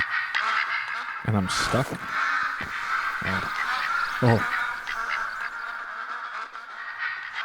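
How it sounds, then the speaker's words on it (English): Ducks quacking loudly in a hunting video game, several harsh nasal calls in clusters over a constant ambient hiss, with someone talking briefly between them. "Loud frickin' ducks."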